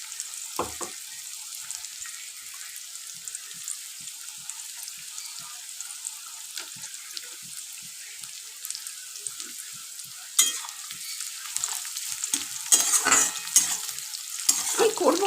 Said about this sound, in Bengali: পেঁয়াজ তেলে পড়লেই একটা খুব সুন্দর গন্ধ আসে